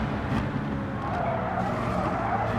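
A race car in a racing league video game skids through a turn, its engine roaring loud and steady with tire scrub throughout.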